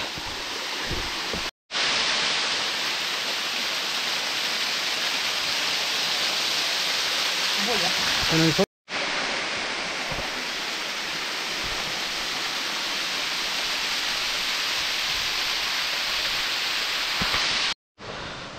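Ermai waterfall in Karnataka, its main falls roaring as a steady, dense wash of falling water close by. The roar fills the clip with two brief dropouts.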